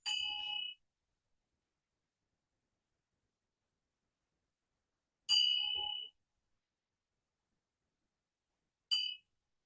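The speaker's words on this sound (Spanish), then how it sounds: "Puedes utilizar campanas" A bell rings three separate times, each a clear metallic ding with a short ringing tail, well spaced apart with silence between strikes.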